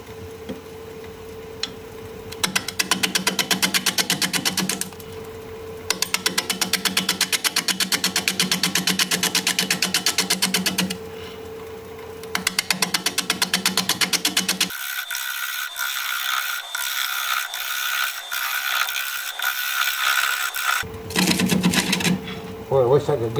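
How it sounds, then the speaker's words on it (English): A wood lathe spins at 500 RPM as a 5/8 inch bowl gouge cuts an out-of-balance rotten wood bowl, giving loud rapid rhythmic chattering in bursts separated by pauses, with a harsher continuous stretch later. "Gonna be turning at 500 RPM, 5/8 inch bowl gouge, mask and face shield on."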